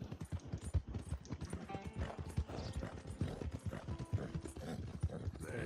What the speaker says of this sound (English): Está rápido este caballo.